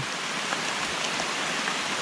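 Steady rain falls outdoors as a continuous, even hiss that fills the whole stretch, fairly close and unbroken, with no voices.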